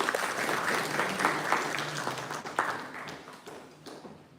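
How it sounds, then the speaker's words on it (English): Applause from the audience at an AI pre-summit event: moderately loud, continuous clapping from a crowd that gradually tapers off over a few seconds, with a few louder individual claps standing out. "So please give a big round of applause."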